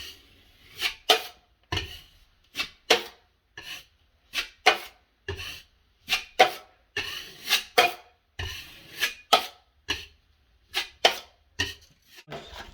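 Rasping grater scraping the edges of a drywall compound patch, a dozen or more short, sharp rubbing strokes in an uneven rhythm, close and crisp, with quiet gaps between them.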